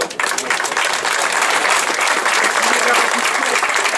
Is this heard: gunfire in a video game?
no